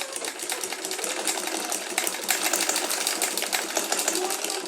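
A sewing machine runs continuously to stitch an invisible zipper, a fast close mechanical rattle of needle strokes that holds steady for a few seconds without pause.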